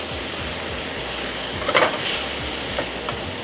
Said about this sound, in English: So now the bacon's now cooking, which is nice.